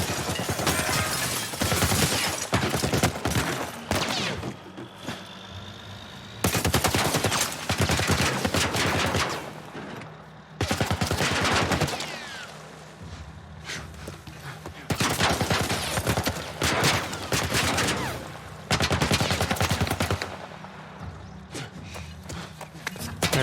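Heavy automatic gunfire in The Last of Us Remake pounds in long, loud bursts of rapid rattling shots, broken by short pauses, repeating again and again over more than twenty seconds.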